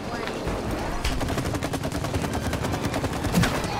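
Sustained rapid gunfire from shooting at an enemy in the video game It Takes Two, a dense, even stream of shots across the whole stretch with a voice briefly audible.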